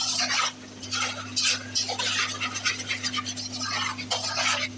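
Mutton with salt and tomatoes is stirred and roasted in a karahi, a spoon scraping and clattering against the metal pan in steady, busy strokes over a constant low hum.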